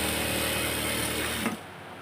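A sewing machine stitching a gharara, whirring in a dense, steady mechanical run that stops abruptly near the end, leaving a quieter hum, with no talking.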